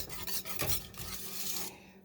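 A spoon rasps and scrapes around a pot of thick, creamy lemon meringue pie filling, rubbing steadily and fairly loudly with no talk.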